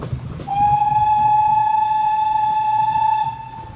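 A steady, sustained train whistle sounds at a level crossing for about three seconds over a low rumble of rolling stock, loud and fairly close.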